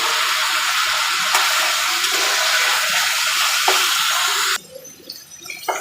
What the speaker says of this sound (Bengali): এখন আমি এখানে একটু পানি দিয়ে দেব